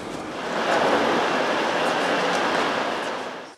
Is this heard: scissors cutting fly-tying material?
no